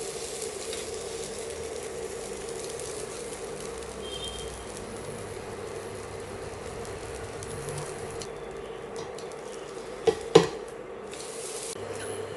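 A wheat-and-coconut poli fries on a hot pan with a steady, even sizzle throughout, close and moderate in volume, broken by a couple of sharp clicks near the end.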